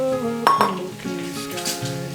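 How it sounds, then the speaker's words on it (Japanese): Utensils clink and scrape against a frying pan as microwave-warmed noodles are loosened and tossed with meat, with a faint sizzle underneath; short, close metallic knocks at an uneven pace. "あらかじめ電子レンジで温めておいた麺を入れてほぐしていく。"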